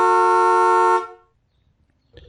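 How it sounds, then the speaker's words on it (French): A single loud, sustained car horn honk lasting about a second, then near silence with a faint noise at the end. "Avertissez le piéton fautif par un coup de klaxon."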